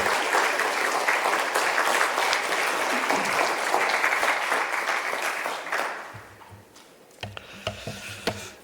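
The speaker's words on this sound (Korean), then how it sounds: "우리 나오실 때 한번 박수로 한번 환영해 주시기 바랍니다" A church congregation applauds to welcome a pastor to the pulpit, dense steady clapping that fills the room for several seconds, then fades, leaving a few scattered claps and soft room noise.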